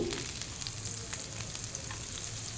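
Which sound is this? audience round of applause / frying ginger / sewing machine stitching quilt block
frying ginger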